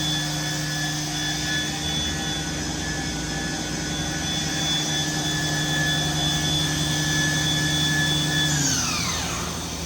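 The spindle of a Mazak VCN 510 C-II Nexus CNC vertical machining center runs at about 5,000 RPM, a steady, loud, high whine with stable tones that sweep sharply down near the end as it slows.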